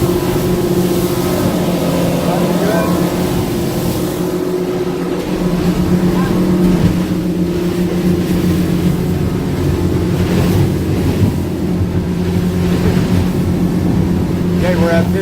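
Duckworth boat engine opened up during an on-water test, a loud steady drone with the hum of the hull and water, and someone talking over it.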